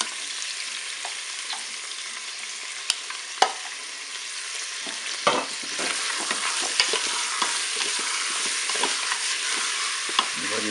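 Chicken thighs and onions browning in a Cookeo multicooker, a steady, bright sizzle of frying with occasional scraping and stirring clicks, fairly close and without talk.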